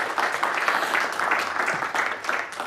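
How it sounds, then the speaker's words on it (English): Listeners at an EdinburghJS tech meetup on web history give a round of applause, a steady, even patter of many hands clapping at moderate loudness that carries through without pause. "that should get a round of applause"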